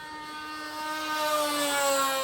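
A propeller aircraft, a Quickie light plane, drones past in a quick pass, its steady engine hum with rising harmonics growing gradually louder over a couple of seconds, no voices.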